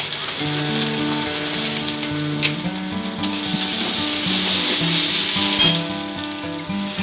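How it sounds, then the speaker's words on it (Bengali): Cumin, ginger and turmeric spices frying in a pan for a fish roe curry, steady loud sizzling throughout with a few stirring clinks, close by, while background music plays under it. "এরপর সব মশলাগুলো আমি খুব ভালো করে একটু কষে নিচ্ছি"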